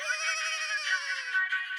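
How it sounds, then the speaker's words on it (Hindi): A mobile phone ringtone plays a steady electronic melodic tone in a scene from the Indian TV sitcom Taarak Mehta Ka Ooltah Chashmah, clear and close with no talking over it. "अरे मेहता साहब का ही फोन"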